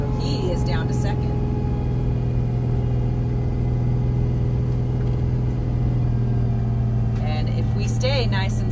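A heavy super C motorhome engine holds second gear on a steep Wolf Creek Pass mountain descent, a steady low rumbling drone throughout, with a voice briefly speaking near the start and end.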